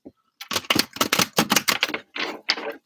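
A deck of tarot cards being shuffled, a series of sharp crisp riffling bursts and slaps in quick irregular succession, close and loud, with short silences between them.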